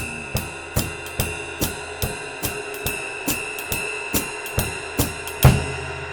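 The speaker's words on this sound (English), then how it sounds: "I'm exaggerating that bass drum." Drum kit groove with an exaggerated, feathered bass drum under a steady hi-hat, regular thumping beats roughly twice per second, close and clear, with a heavier accented hit near the end and no voices.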